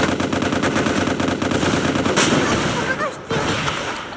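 Rapid automatic gunfire from the MicroVolts Recharged shooter game, a dense continuous stream of loud shots filling the whole stretch, with a brief burst of a different effect near the end.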